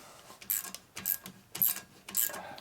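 A ratcheting wrench tightens a bolt on a 1983 Harley-Davidson FLTC 80ci Shovelhead engine during a rebuild, four close, crisp ratchet strokes in an even rhythm.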